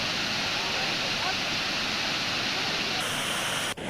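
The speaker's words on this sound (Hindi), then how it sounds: "2 फीट ऊपर से पानी बह रहा है।" The Shivnath river pours two feet deep over the Mahmara anicut weir after a reservoir release, a dense, steady roar of rushing water filling the scene up close, loud and unbroken.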